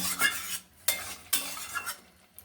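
Fried potatoes and pointed gourd are stirred in a pan, with three or four quick scraping sweeps of a spatula over a soft sizzle, each stroke rising sharply and fading.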